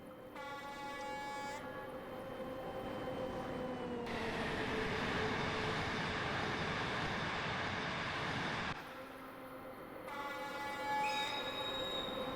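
A ZSSK Class 350 electric locomotive in Train Simulator Classic powers along at speed on the Česká Třebová–Zábřeh na Moravě line, with steady rolling rail noise, a long tonal horn-like whine at the start and end, and a loud broadband roar in the middle.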